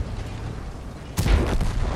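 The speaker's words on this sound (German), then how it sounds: "Artillerie hat schon abgedrückt" Artillery fires in the World of Tanks tank game: a single sudden, heavy boom with a deep low thump, then a rumbling tail over steady engine noise.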